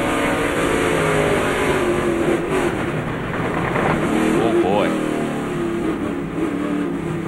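Onboard a Triad Racing Technologies Dodge race car, the engine drones steadily and swells as the driver alternates on and off the throttle, with revs rising and falling in short surges throughout.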